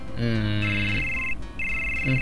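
A mobile phone ringtone in Final Fantasy 7 chimes in a steady, high, electronic pattern, clear and fairly loud, with a brief voice-like sound underneath at the start.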